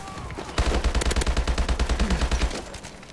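A new automatic gun in the shooter Call of Duty Advanced Warfare fires one rapid, even burst of about two seconds with punchy close shots over background game noise.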